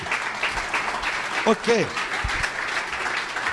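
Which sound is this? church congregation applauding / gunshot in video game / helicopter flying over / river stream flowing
church congregation applauding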